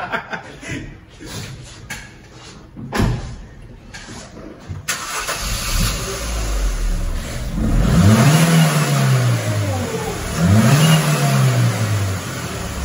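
A car engine cranking and catching on a dyno while testing a performance air filter, then idling and revving in two rising-and-falling swells, loud and close over a steady fan or blower hum.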